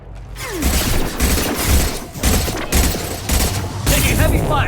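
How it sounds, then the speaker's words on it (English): Heavy gunfire in the Mass Effect 2 video game: dense, continuous volleys of loud shots and booms that keep up without a break. "Taking heavy fire."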